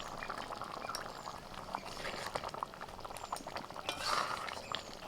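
A Bengali curry with mustard-poppy paste simmers in a pot, making faint, close bubbling and soft popping that rises slightly near the end, with no talking.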